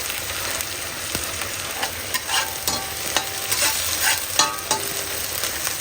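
Garlic and ginger paste fries in fish oil for a curry, a steady close sizzle with crackling pops and occasional spoon stirring, no talking.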